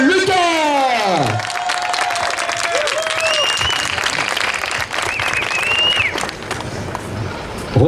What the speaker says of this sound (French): un tonnerre d'applaudissements pour monsieur Robin Lucas